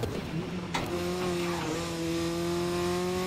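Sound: race car engine revving in the GRID 2019 video game

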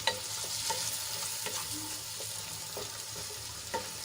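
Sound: stirring chopped tomatoes into frying onions in a pan

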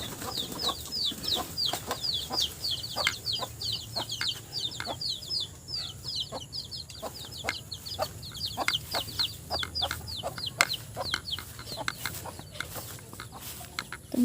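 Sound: chickens clucking while being fed

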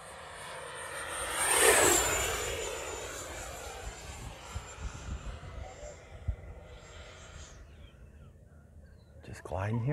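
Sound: E-flite F-16 Falcon 80mm RC jet making a full speed pass

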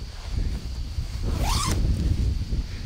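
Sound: zipper on hunting suit pocket

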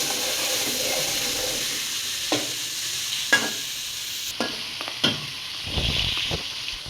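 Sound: turmeric-marinated fish and chopped onion frying in hot oil

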